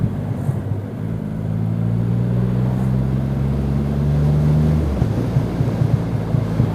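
A Triumph Rocket 3 R Black Limited Edition motorcycle, still being run in, rumbles steadily as it is ridden, its low engine drone rising in pitch before a gear change, with wind buffeting the microphone.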